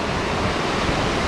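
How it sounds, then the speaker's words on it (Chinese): A waterfall at Yosemite rushes down in a dense, unbroken roar, loud and close, with no voices over it. "瀑布奔腾而下。"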